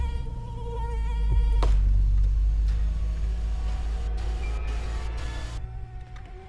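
A mosquito of the kind that spreads dengue, Aedes aegypti, buzzes steadily with a thin whine over a low rumble, continuous and close for several seconds with no one speaking.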